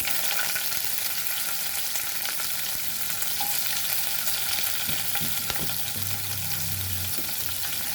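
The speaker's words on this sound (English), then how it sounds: "Now we'll add our chilies to this" Chilies hiss and crackle in a hot pan over a medium flame for a Goan tomato salad bhaji, a steady close sizzle with a few soft stirring scrapes near the end.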